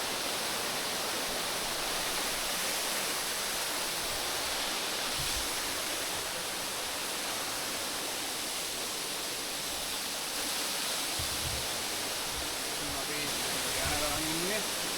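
Sasmale Ela waterfall pouring into the Theen river in Sri Lanka, a steady broadband rush of falling water that stays loud and unbroken throughout, with a few faint low thumps.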